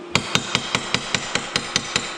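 A hammer lightly taps a plasma-cut steel pipe, ten sharp, evenly spaced metallic knocks at a steady quick pace, close and clear without talk.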